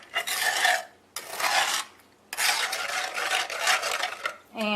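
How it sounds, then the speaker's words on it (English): Pie filling for a coconut cream pie is stirred in a saucepan over medium heat, a close, steady scraping and rubbing in three bursts separated by short pauses, with no talk. "we're just going to mix it in the saucepan until it starts to thicken"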